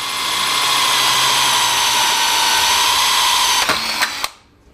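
A power drill runs steadily as it bores a hole through a metal harness bar in a hot shop, a loud continuous whine lasting about four seconds before a few clunks and a sudden stop.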